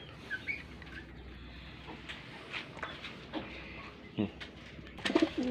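Fancy pigeons coo in a loft, soft low calls repeating under steady background noise, with a couple of sharper bird calls near the end while someone speaks at a distance.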